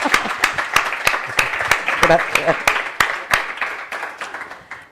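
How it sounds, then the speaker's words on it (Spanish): An audience applauds at a poetry reading, a dense run of sharp handclaps lasting throughout, moderately loud, with a voice speaking briefly over it. "Un aplauso, con un aplauso."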